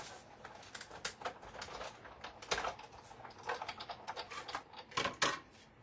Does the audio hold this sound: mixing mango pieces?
no